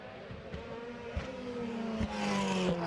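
Jamie Green's all-orange DTM race car at Oschersleben in 2014, its engine note loud and close, climbing steadily in pitch as it accelerates along the track.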